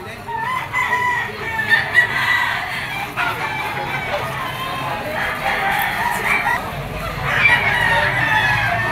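Young stag roosters, Sims Black males among them, crow and cluck repeatedly at the Lipa poultry auction market, several overlapping calls against a busy crowd murmur, with people talking nearby.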